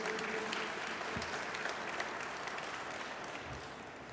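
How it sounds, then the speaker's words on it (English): An audience claps for police command staff at a San Francisco Police Department ceremony, a steady, fairly quiet wash of applause from a crowd that holds evenly throughout. "Just give you a round of applause."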